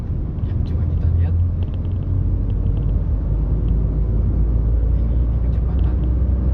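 A Daihatsu Rocky 1200 cc on a long test drive, its engine and road noise forming a loud, steady low rumble from inside the cabin, with people talking over it.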